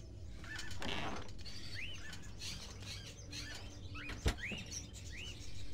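A caged bird in the video game Fahrenheit: Indigo Prophecy sings faint, quiet rising chirps at irregular intervals over a soft background hiss, with one sharp click partway through.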